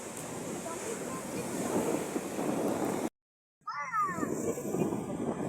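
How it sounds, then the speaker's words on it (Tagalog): Large surf from the monsoon swell crashes onto Aroma Beach in San Jose, Occidental Mindoro, with loud, steady wave roar and heavy wind buffeting the microphone, cut by a brief dropout before the churning water resumes. "Sobrang lalaki ng alon guys."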